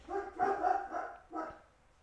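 Several dogs bark indoors in a quick burst of four or five loud, close woofs that overlap, then trail off into a short pause.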